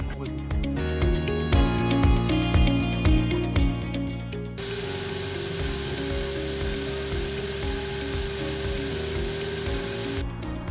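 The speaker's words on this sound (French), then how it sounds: "Donc maintenant, j'ai percé, j'ai marqué l'emplacement des trous sur les montants." A power drill whirs steadily while boring holes in the uprights of a van, its motor tone holding constant with brief pauses, under someone talking at the start.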